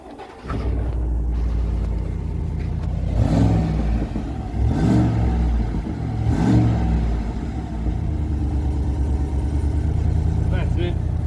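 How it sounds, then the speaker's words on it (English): A Chevrolet Silverado or Ram pickup with its standard exhaust starts up close by and settles into a deep idle. Three short throttle revs follow. A voice talks briefly near the start. "The standard exhaust is on there now. I'll just start it up."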